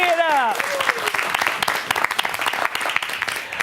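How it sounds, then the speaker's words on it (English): An audience at a school quiz competition breaks into applause right after a loud, sweeping voice-like sound, giving a burst of clapping that stays dense, then thins into scattered claps. "Pony up the applause"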